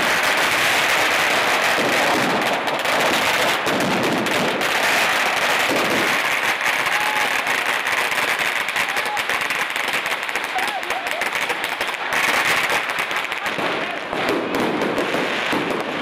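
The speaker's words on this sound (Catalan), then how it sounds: "Era el moment perquè els fallers cremen tots els petards, fent el màxim soroll possible a la coneguda com a nit del fum." Firecrackers set off by crowds during Fallas night in Valencia, a dense, continuous crackle of loud pops and bangs lasting throughout, with faint voices mixed in the din.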